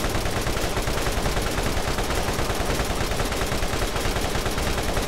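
Nonstop automatic gunfire from the video game Borderlands rattles continuously at close range, a dense, even stream of rapid shots with no pauses.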